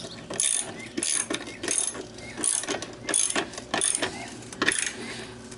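Ratchet snugging bolts on the outfeed table of a Craftsman 103.23340 jointer under rebuild, sounding as close, steady bursts of metallic clicking in a regular back-and-forth rhythm, with no voice.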